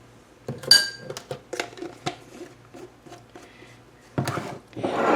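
A spoon scrapes and clinks against a mayonnaise jar in a kitchen, a series of light, close taps and scoops at irregular intervals, followed by a brief rustle at the end.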